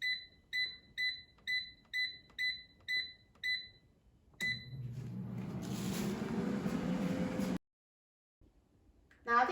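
An air fryer beeps eight times in a steady, evenly spaced series of clear electronic tones, followed by a rushing, hissing noise.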